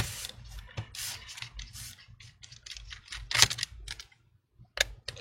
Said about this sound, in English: Start removing the screws.